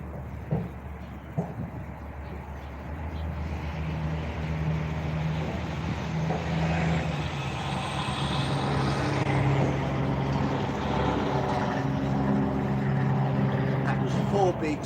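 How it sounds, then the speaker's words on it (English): Four semi-trucks rumble past close by at once in Quanah, Texas, a steady, loud low roar, with engine drone rising and falling and a brief hiss of air brakes. "Four big semi-trucks all passing by at the same time, if you heard a loud noise there."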